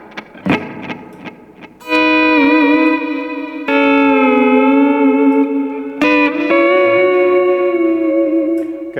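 Sustained, gliding pedal steel guitar notes with heavy reverb and echoing delay swell in three long phrases after a few plucked attacks.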